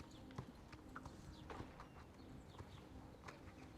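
Horse hooves clip-clop at a steady walking rhythm in the online horse-riding game Star Stable, moderately close and fairly quiet, with soft game ambience behind and no talk.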